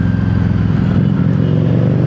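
A Harley-Davidson Street 750 motorcycle fitted with a Screaming Eagle exhaust idles close by, giving a loud, steady low rumble with a throbbing pulse.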